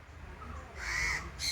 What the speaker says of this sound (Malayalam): കാക്കയൊക്കെ അവിടെ വന്നിരിപ്പുണ്ട്